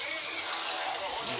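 Water running from a makeshift shower and being collected, a steady close splashing gush with a faint voice underneath.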